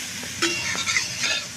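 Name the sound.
cauliflower frying with a little salt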